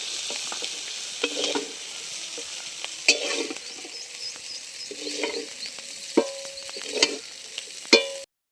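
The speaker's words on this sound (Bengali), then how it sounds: "দেখুন চিংড়িটা আমি ভালো করে ভেজে নিয়েছি, এবার আমি তুলে নিচ্ছি" Prawns frying in hot oil in a pan sizzle steadily while a spatula scrapes and clinks several times as they are lifted out, with sharp metallic taps standing out over the continuous hiss.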